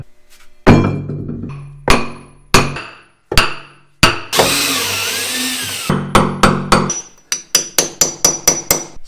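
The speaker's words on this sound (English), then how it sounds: "Back to the chisel and prying." Hammer blows on a chisel chipping and prying concrete in a garage service pit: sharp, loud metallic strikes, first spaced irregularly, then a burst of scraping grinding, then a quick steady run of about ten close hammer hits, no talking.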